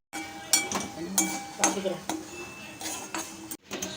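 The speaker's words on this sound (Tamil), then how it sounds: "நெல்லிக்காவை நம்ம ட்ரை ரோஸ்ட் தான் பண்ணணும், எண்ணெய் எதுவும் விடலை." Gooseberries dry-roasting in a pan without oil, a spoon clinking and scraping against the metal in irregular strokes over a faint background hiss.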